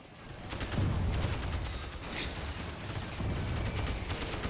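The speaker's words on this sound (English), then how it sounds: "artillery finally coming for Marakar in the form of inferno cannons" Distant inferno cannon artillery from the Rise of the Reds mod of a real-time strategy game, firing as a dull continuous rumble of booms and crackling fire that rolls on at steady loudness without a clear break.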